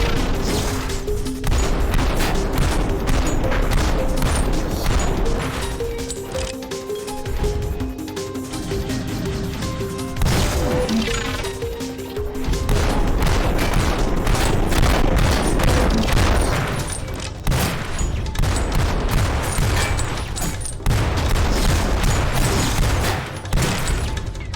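Sustained gunfire and explosive booms in a robot-themed VR shooter, continuous overlapping shots and crashes over a steady musical drone across the whole stretch, without voices.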